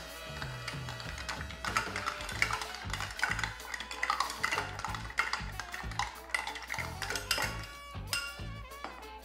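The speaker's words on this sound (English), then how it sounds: "Give it another quick stir." Whiskey highball being stirred with ice in a glass, a steady run of close clinks and scrapes from spoon and cubes, repeating rhythmically throughout with a low hum underneath, no voices.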